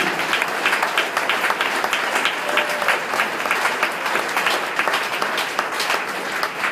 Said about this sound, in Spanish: Pues se merece un chorro de aplausos también.